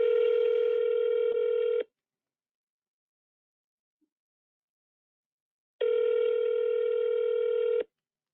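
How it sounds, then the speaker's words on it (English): An outgoing phone call produces a ringback tone, two identical bursts about two seconds long separated by a silent pause of several seconds, clean and steady. "I am receiving a phone call from my Medicare Center number"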